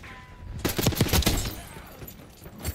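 Tanto 22 SMG fire in Black Ops 6, a video game, breaks out as a quick loud burst of rapid shots after a quiet start, then fades into softer clatter and background game noise.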